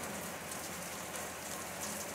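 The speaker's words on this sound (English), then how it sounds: "There comes the rain off the roof." Steady rain pouring off a roof, a dense, even hiss and patter that holds at the same level throughout with no voices.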